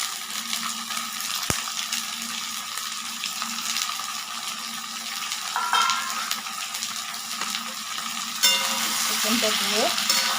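Chicken frying in a pan for a doi chicken recipe, a steady close sizzle with intermittent scraping and stirring strokes and a sharp clink near the start.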